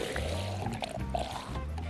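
Water trickles and gurgles into a C3 bottle fitted with a filtration straw inside a camper van, a soft, continuous pouring sound with faint sloshing, close by.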